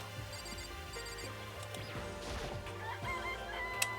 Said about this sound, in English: It's a chicken. It's really alive, right?